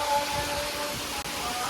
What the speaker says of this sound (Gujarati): ભાઈ વરસાદ ચાલુ થઈ ગયો છે